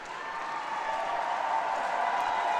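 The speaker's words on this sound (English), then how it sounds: "You can hear them cheering for their player here" A wrestling tournament crowd cheering and applauding a Belarusian wrestler's gold-medal win, a dense steady wash of clapping and voices that grows slightly louder, with faint talk underneath.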